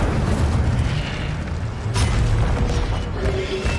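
Fiery spell blasts in the Hogwarts Legacy video game on PS5, a loud continuous roaring whoosh with a sharper burst near the middle, layered over dense low rumbling effects.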